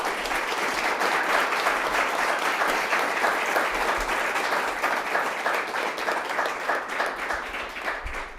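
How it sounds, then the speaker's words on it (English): Audience applause at a fair-markets forum, a dense, sustained wash of many hands clapping at an even level for about eight seconds. "Can we give a round of applause real quick for Kelly?"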